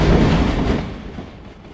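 A train moves in a video game, a short heavy rumble that starts loud and fades steadily away.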